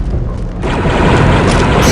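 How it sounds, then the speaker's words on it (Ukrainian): A heavy, rumbling grenade explosion in a Star Wars: Republic Commando game swells into a dense roar that fills the clip, loud and close, without speech. "Кидаю гранату."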